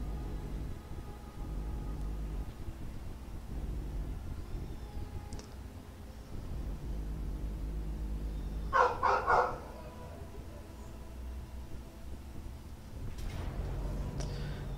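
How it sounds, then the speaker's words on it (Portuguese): A pet dog gives a short, clustered burst of barks partway through, moderately near, over a steady low hum with otherwise quiet surroundings. "E meu cachorro que estava quieto até agora acordou."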